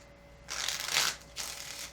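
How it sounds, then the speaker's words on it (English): A deck of tarot cards is shuffled close by in two quick bursts, a longer riffling rush followed by a shorter one after a brief pause, with no voices. "Let's start with the shuffle."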